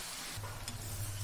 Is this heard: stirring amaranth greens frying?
yes